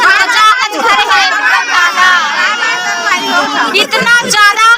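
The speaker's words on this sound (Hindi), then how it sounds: "तो देख सकत हो यहाँ दे बहुत ज्यादा भीड़ है संगवारी हो" A packed crowd at a chhathi ceremony gathering fills the air with loud, close, overlapping voices, a continuous busy babble of talking people with no pauses.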